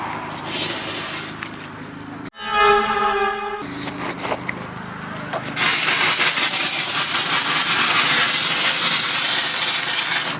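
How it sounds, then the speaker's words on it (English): A steam cleaner sprays a mud-caked skid-steer, a loud, steady broadband hiss that swells and runs continuously through the second half, with a short whistling tonal burst earlier on. "All right, guys, steam cleaner time."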